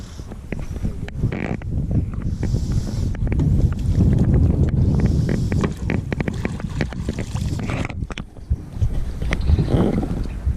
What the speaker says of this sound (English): You have to use a paddle.